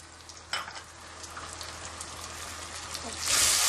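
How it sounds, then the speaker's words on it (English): Crushed tomatoes go into a clay pot with browned garlic, starting as a soft sizzle with a few clinks and then swelling into a loud, hissing fry at the end. "So next I'm going to add in the crushed tomatoes."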